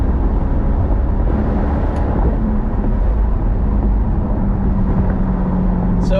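A Chevrolet C8 Corvette driven on the road, its engine giving a steady, loud droning rumble heard from inside the cabin alongside road noise, with shifts in engine tone as it downshifts.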